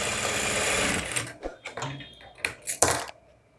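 A sewing machine stitches tucks into a baby cap, a close, rapid mechanical chatter for about a second, followed by scattered clicks and knocks as the fabric is handled.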